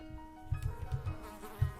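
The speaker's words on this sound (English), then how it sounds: "I'm still curious about the bees." Insect-like buzzing of bees in the video game Shadows Over Loathing, a low droning hum swelling in a few short pulses, fairly quiet with no talk.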